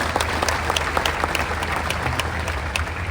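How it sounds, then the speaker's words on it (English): Steady applause from a stadium crowd honoring donors at an Ohio Stadium statue unveiling, dense clapping sustained throughout with scattered louder claps and no talk over it. "Let's give our donors who made this possible a round of applause."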